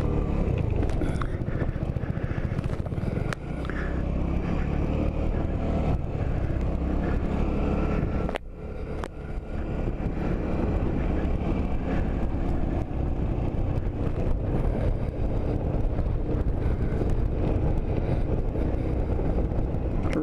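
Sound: Suzuki Burgman 200 scooter riding down mountain

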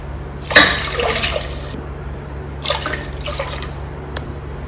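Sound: water poured into rice pot for ghee rice

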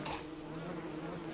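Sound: bees buzzing in the video game Don't Starve

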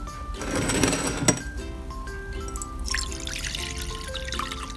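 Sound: water pouring and trickling

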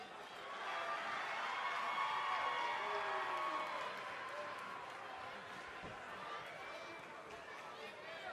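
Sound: arena crowd cheering in WWE 2K20 video game

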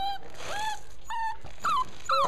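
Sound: dog whimpering

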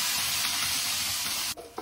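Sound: sea fish frying in a pan

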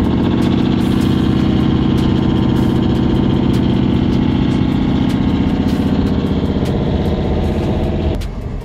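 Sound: nearby truck engine idling, sounds like farting

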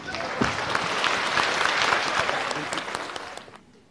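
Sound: audience applause at a crosstalk show

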